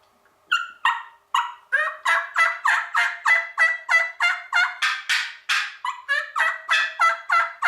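A hand-operated turkey call imitating gobbling, a rapid series of loud, close, rhythmic gobbles with brief pauses between bursts.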